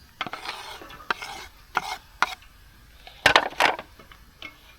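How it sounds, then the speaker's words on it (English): Chopped onion hits a hot pan and is stirred, giving a scraping, clattering run of stirring strokes over a soft bed of sizzle, with a couple of louder rattling bursts near the end, close and clear with no talking. "In with the onion."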